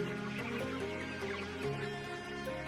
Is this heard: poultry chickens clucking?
yes